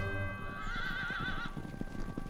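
Wild horses outside Reno, Nevada give a loud, close neigh that rises and wavers for about a second, over a steady rumble and soft hoof clip-clops.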